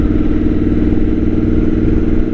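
Triumph Scrambler 8-valve overhead 2-cylinder motorcycle engine giving a loud, steady, deep exhaust rumble close up, idling evenly without breaks.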